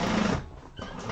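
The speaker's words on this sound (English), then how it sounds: "So doing another row of stitches" A sewing machine runs a reinforcing row of stitches along a hobo bag seam, a loud steady mechanical whir that dips briefly midway and then picks up again, heard alone with no talking.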